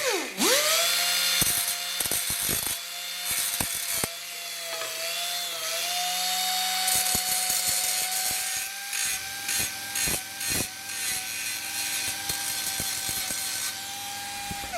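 Angle grinder fitted with an aggressive flap wheel smoothing welded steel on the front outer rocker panel of a Mercedes W109, a loud steady high whine running almost throughout with brief dips and bursts as the disc bites the metal.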